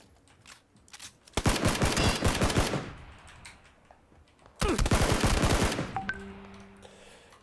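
Two dense bursts of rapid automatic gunfire in the Battlegrounds video game, each lasting over a second and separated by a quiet gap, loud and close, with a few short tonal game sounds trailing after.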